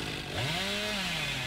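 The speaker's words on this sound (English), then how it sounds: "So I start up my chainsaw" A chainsaw revs up in the video game Dead by Daylight, its engine pitch climbing and then holding at a loud, buzzing drone, with nobody speaking.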